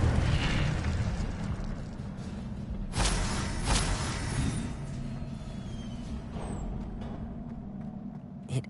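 An Incendio fire spell cast in Hogwarts Legacy, fiery bursts and booming blasts rising from a rumbling game background, with two strong hits near the middle and fainter pops toward the end.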